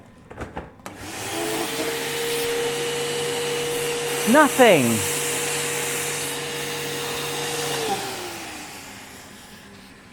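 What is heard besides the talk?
Hyundai vacuum cleaner running on blower function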